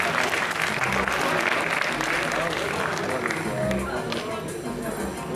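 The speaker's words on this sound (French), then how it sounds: "On applaudit bien fort Seb." An audience at a gaming tournament claps loudly and continuously for a contestant, a dense wash of applause that fades slightly toward the end.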